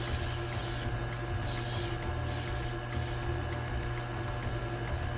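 Cooking spray hisses steadily from an aerosol can as it coats a cake pan, including the sides. A few short breaks come as the spray moves, and a constant low background hum runs under it.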